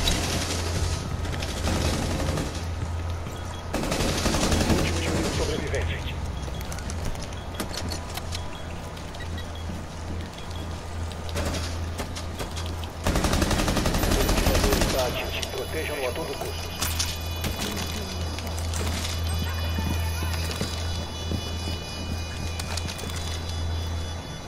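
Gunfire from the player's own weapon in the video game Rainbow Six Siege comes in dense rapid bursts, mixed with other game effects. Two louder volleys stand out, and a player talks over the game audio.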